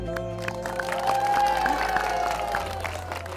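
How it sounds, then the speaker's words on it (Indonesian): Clapping and light cheering from a crowd gathered at an outdoor market, a moderate, steady wash of applause over a low background hum, with a few scattered claps near the end. "Tepuk tangan dulu."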